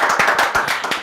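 An audience claps in a quick, dense burst of overlapping hand claps, loud and close, lasting about a second.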